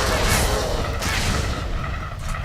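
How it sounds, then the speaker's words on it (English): Rocket launcher firing in the twin-stick shooter Crimsonland, a dense run of loud booming blasts and explosions rolling over each other with no pause, sustained through the whole stretch. "I guess I picked up a rocket launcher somewhere?"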